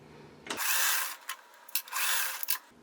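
A sewing machine stitches quilt block pieces together with a quarter-inch seam in two short whirring bursts, each with a soft start and stop, separated by brief handling clicks.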